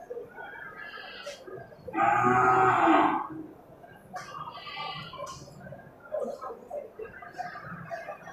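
An Aceh cow moos once, loud and close, at a busy livestock market in Bireuen, with quieter market murmur and faint background sounds continuing around it.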